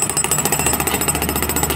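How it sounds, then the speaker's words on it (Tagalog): Jackhammer pounding the ground at a riverside plaza construction site along the Pasig River esplanade, a loud, steady rapid hammering that runs continuously and close by. "at kasalukuyang gina-jackhammer ni kuya"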